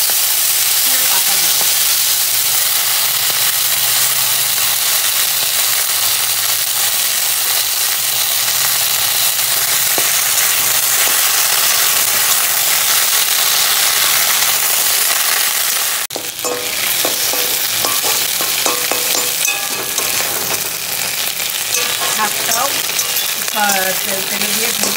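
Mixed vegetables fry in a pan of hot oil with dried red chilli and bay leaf, a loud continuous sizzle with stirring scrapes, briefly interrupted partway through before resuming.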